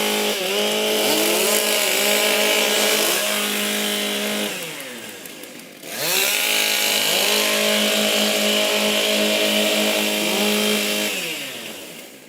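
Chainsaws being warmed up at a wood-chopping event at the NZ Rural Games: loud, sustained engine whine that revs and holds, dips briefly near the middle, then roars back up, with no talk.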